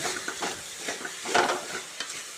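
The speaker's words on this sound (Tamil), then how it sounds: "போட்டு நல்லா கிளறி விடுங்க" Vegetable kootu being stirred in a pan, a steady run of scraping and clicking spoon strokes over a soft sizzle, with one louder stroke partway through and no voices.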